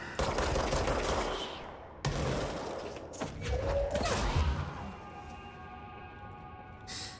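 Gunfire in the video game Control, dense rapid bursts of shots with clattering mechanical noise and impacts, loud and sustained with brief pauses.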